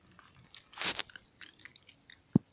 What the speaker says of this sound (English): I was eating the gumbo and it got this small.